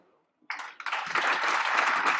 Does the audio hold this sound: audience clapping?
yes